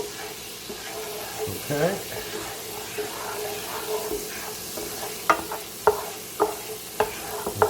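Garlic frying in a pan, a soft steady sizzle with scraping stir strokes and a few sharper clinks toward the end, while a person speaks briefly.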